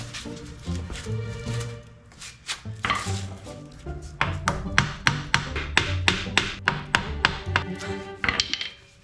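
Repeated sharp metal taps from a hammer or mallet on the front strut and caliper area of a 2014 Ford F150, irregular at first then a steady rhythmic series of close, loud strikes.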